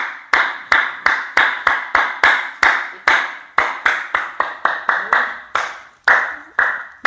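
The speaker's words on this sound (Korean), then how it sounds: "이렇게 박수를 세게 치면서" A single person clapping hands hard and close, sharp loud claps in a steady rhythmic series with brief pauses between groups.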